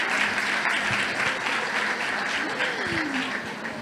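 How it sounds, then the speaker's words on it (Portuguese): An audience applauds Audrey Pulvar, a French journalist and environmental activist, at a public event: steady, dense clapping that fills the whole stretch at even loudness, with faint voices mixed in. "Palmas para ela."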